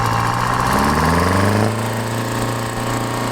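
A fifty-seven-year-old tractor engine idles steadily up close, a low throbbing rumble with a deep knocking pulse that shifts slightly in pitch partway through, with no talking.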